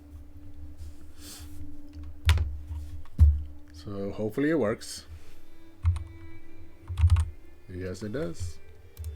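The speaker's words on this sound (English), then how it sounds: "my keyboard is plugged in now" Typing on a plugged-in computer keyboard sounds as a few scattered, distinct key clicks between bursts of nearby talking.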